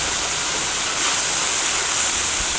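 Water splashed onto a giant hot wok lid beside two frying eggs, giving a loud, continuous hissing rush of steam and sizzle that holds steady for a few seconds.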